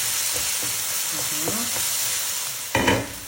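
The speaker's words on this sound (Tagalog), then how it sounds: "Yan na, sangkutsado na, kamatis natin." Tomatoes sautéing in a pan give a steady close sizzle, with a few light scrapes of stirring and a sharper burst of frying noise toward the end.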